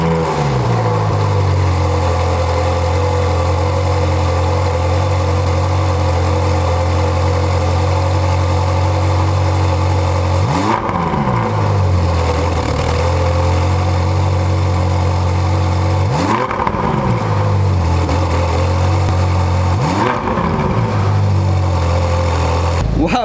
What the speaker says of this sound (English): hearing that engine just rev, man, this car is a beast.